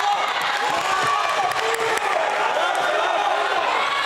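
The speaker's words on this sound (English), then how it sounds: "the crowd wanted a foul there as Mata reached in, knocked it out of bounds" A basketball crowd in a gym reacts loudly, calling for a foul after a reach-in knocks the ball out of bounds, a broad wash of voices and shouts throughout.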